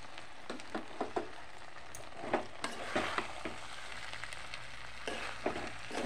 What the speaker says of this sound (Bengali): এখন আমি রাইসটা দিয়ে দেব।